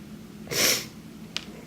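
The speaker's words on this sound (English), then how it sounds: "I'm sorry about all the sniffling too." One strong, breathy sniff up close, followed a moment later by a brief, fainter second sniff.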